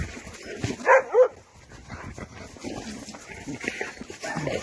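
A small dog of about ten kilograms, roughly seven or eight months old and recovering from poisoning, gives two sharp barks early on, then soft whimpers and whines at close range with some background noise.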